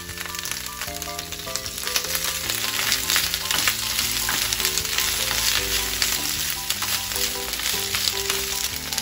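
Komatsuna stir-frying in hot oil for a Chinese-style komatsuna and egg dish, a continuous loud sizzle with stirring under a light musical background.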